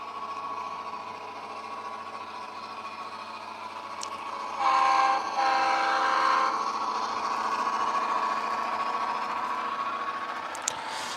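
A model train locomotive's sound system drones steadily with a horn-like tone swelling midway, continuous mechanical hum, no talking.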